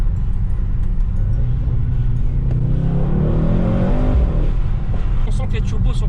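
A Mercedes-AMG GT63 S with a twin-turbo engine and 640 hp revs loudly up close, its deep rumble rising and swelling before settling, heard alone without talk.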